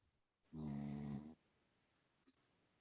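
A person gives a single close snore, one rasping, droning inhale lasting under a second, followed by quiet room tone.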